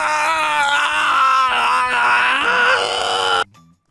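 A person screams loudly and continuously with rising, strained vocal tones, a sustained harmonic shriek lasting about three and a half seconds before cutting off abruptly into near silence, late at night in an office, over eggs.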